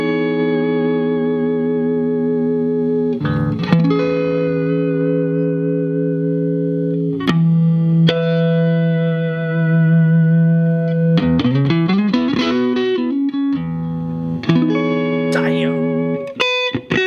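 A heavily processed 1955 Fender Stratocaster electric guitar rings out sustained notes and chords with distortion and shimmering echo, loud and close, changing pitch in bursts.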